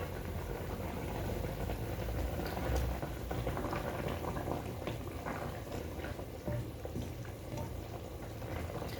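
Green banana and hilsa fish curry simmering under a lid, a steady low bubbling and soft hiss, faint and continuous with no voices.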